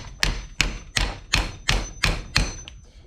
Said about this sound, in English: I've just swapped over to basic claw hammer and a socket